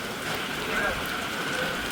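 Rain falling steadily at Alibag on the coast, a dense continuous hiss of drops on surfaces, close and even in loudness.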